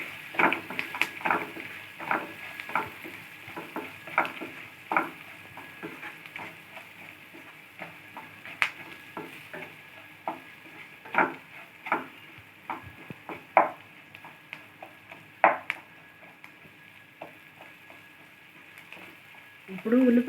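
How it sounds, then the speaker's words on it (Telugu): Onions frying in oil with a small spoon of turmeric, sizzling steadily while a spoon stirs and scrapes the pan in frequent irregular knocks, close up and fairly quiet. "ఉల్లిపాయలు బాగా ఆయిల్లో ఫ్రై చేసుకోవాలి"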